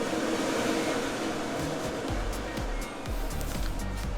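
A kitchen range hood fan in a new apartment runs during a pre-move-in inspection with a steady, loud airy whoosh, joined partway through by a low repeating hum.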